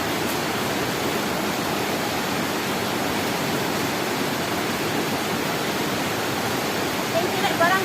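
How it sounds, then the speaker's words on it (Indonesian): Strong river current rushing beside a riverbank tree above a rocky ravine, a steady loud broadband roar of flowing water filling the whole clip with no break. "makanya arus sungainya itu sampai kedengeran"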